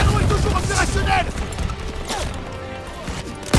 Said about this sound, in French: Tir de suppression. Allez. Et hop. Continuez à tirer.